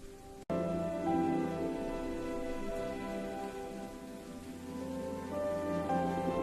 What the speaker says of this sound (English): In a quiet town where it rained every single day